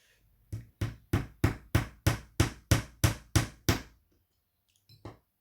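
A small hammer taps pins into split JTElectric model railway rail joiners. There are ten crisp, evenly spaced knocks close by, then a pause and one softer final tap, with no talking.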